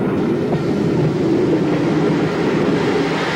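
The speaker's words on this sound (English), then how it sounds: "one of Mansell's previous 440 design, an L1, backing onto the train at Brighton Station" An LB&SCR L1 steam tank engine backs onto a train at Brighton Station, heard as a loud, continuous rolling rumble with a heavy low-end hum and no pauses.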